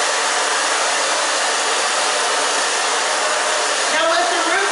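A hair dryer blow-dries the back of a short stacked bob, a loud, steady close-up roar running throughout with a slight shift near the end.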